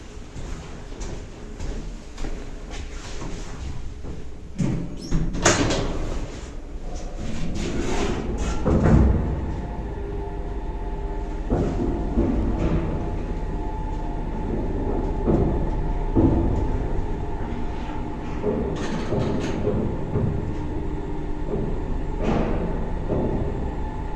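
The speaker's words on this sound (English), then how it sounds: "along I go to an old freight lift, but sadly this one's been modernised" An old, modernised freight lift with no inner doors: a steady mechanical rumble and hum while it rides, broken by a few clanks and thuds from the doors and car, with no talking.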